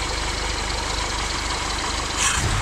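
A Chevrolet Chevette engine idles steadily at about 700 rpm on a newly fitted carburetor, a constant low rumble with a brief brighter hiss near the end.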